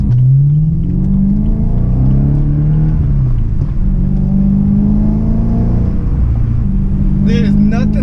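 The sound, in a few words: V8 car engine revving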